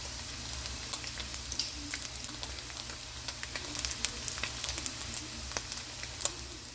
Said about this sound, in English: just listen to that sizzling